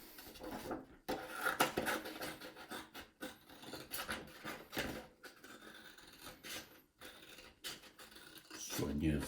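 Scissors cut out a pencil-traced circle of paper, with irregular snipping and rustling bursts separated by short pauses, heard up close while a voice speaks.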